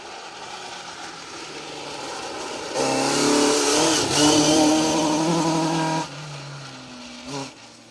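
Mark II rally car on a stage of the Roger Albert Clark Rally, its engine note building from a distance, then roaring loud past for about three seconds before dropping away, with no talk.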